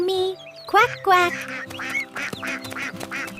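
A cartoon duck quacks repeatedly in a children's farm song, a run of bright, evenly spaced nasal quacks following a brief sung phrase, close and clear.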